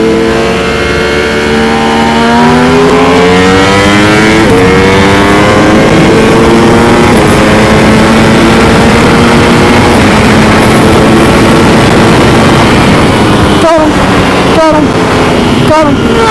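A Kawasaki ZX-10R races among sportbikes, with high-revving engines loud and close throughout, pitch climbing through the gears, and quick shift breaks near the end.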